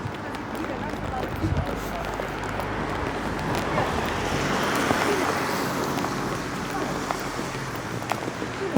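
A waterfall sends up a steady, broadband roar of rushing water outdoors, loud and continuous, with some wind noise over it.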